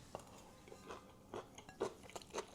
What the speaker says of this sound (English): let's taste this cabbage and carrot